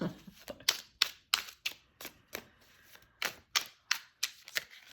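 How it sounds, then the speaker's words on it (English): Rapid, crisp papery slaps repeat in quick bursts as tarot cards are shuffled and riffled close by, with brief pauses between. "I will at least shuffle out 3 cards."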